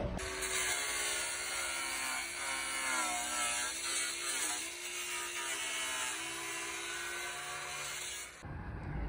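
A continuous, loud rasp of a cutting tool biting through the metal crossmember of a BMW 326i to make room for crash bar tubes, running steadily for about eight seconds before stopping abruptly.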